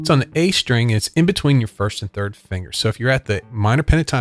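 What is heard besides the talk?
None of the usual background noises is heard.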